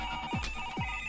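A telephone rings in a Kannada drama scene with two short electronic rings about half a second apart, steady, close and clear, with nobody speaking.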